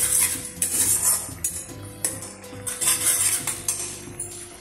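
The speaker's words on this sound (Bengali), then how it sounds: "গ্যাসের ফ্লেমটা লো থেকে মিডিয়ামে দিলাম। এইভাবে কিছুক্ষণ কষে নিতে হবে" A spoon scrapes and clinks against the pan as palak paneer is stirred and sautéed. The metallic stirring comes in irregular bursts and is fairly loud and close.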